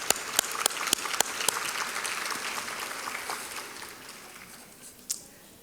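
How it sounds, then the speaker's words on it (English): An audience at a Power of Pink luncheon applauds in a steady wash of clapping, with sharper individual claps near the start, fading out toward the end. "Give yourselves a round of applause."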